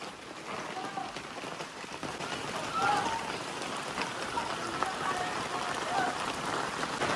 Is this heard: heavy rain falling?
yes